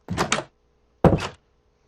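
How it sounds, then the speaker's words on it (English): An oak door in the Minecraft video game is used twice, giving two short wooden creak-thud sounds about a second apart, with nothing audible between them. "Alright, so oak door."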